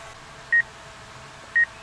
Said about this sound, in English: The beeping is because my obstacle avoidance is going nuts right now.